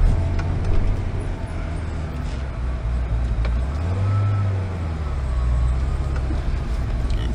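A modified Corvette ZR1 with an intercooler pump and adjusted idle speed drives along, its engine a low steady rumble rising and falling slightly under broadband road and wind noise, fairly loud throughout.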